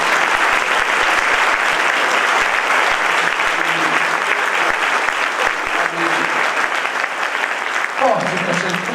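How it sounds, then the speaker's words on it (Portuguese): Church convention crowd applauding for an incoming president, a loud, sustained roar of clapping with a voice rising over it near the end. "que eu quero que vocês recebam com muito aplauso em nome de Deus"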